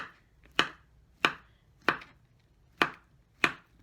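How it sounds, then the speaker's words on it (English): A knife slices peeled bananas into chunks about half an inch to an inch thick, making five crisp, evenly spaced chops close up with quiet gaps between them. "cutting up my bananas into about a 1/2 inch to 1 inch thick slice"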